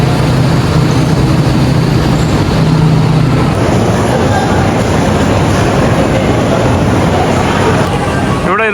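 A Chinese sleeper train at Wuhan station gives a loud, steady broadband rumble and hiss throughout, with a faint low tonal hum early on and no clear talk.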